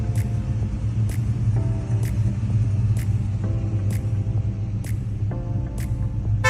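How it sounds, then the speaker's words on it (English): Deep, loaded rumble of a 1970 Plymouth Hemi Cuda muscle car engine running steadily, close and loud, with a lumpy idle and regular pulses throughout. "1970 Plymouth Hemi Cuda, one of the most sought-after muscle cars of all time"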